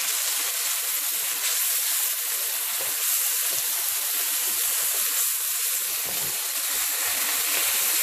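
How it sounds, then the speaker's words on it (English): Soy sauce hits a hot wok for Indo-Chinese mixed vegetable Manchurian, setting off a loud, steady sizzle and hiss that holds close and constant with no voices. "Here goes soya sauce."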